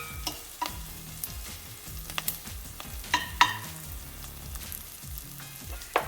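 Ground mustard seeds fry in oil in a pan for Sri Lankan-style zucchini, a close, busy sizzle with small pops and occasional spoon scrapes, with no talking.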